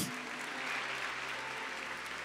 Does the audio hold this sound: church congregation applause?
yes